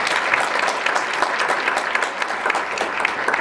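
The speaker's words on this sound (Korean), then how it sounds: "다시 한번 큰 박수 부탁드리겠습니다" An audience at a Korean forum on the textile industry and the circular economy claps steadily, a dense, even burst of applause that runs for about three seconds.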